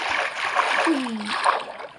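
A player character splashes into water in Minecraft, a soft watery splash with gurgling and flowing texture over a couple of seconds, fairly close and without talk.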